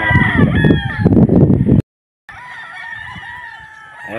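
Fighting roosters for sale at a market crow loudly and close, one long crow cut by a brief gap of silence before another sustained crow follows, with no talk.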